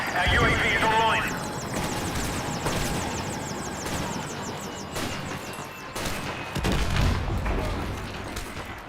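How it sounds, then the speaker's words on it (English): An enemy helicopter in Call of Duty multiplayer drones under a dense mix of gunfire, explosions and game chatter, with the rotor noise rising and falling through the busy battle. "Enemy helicopter inbound."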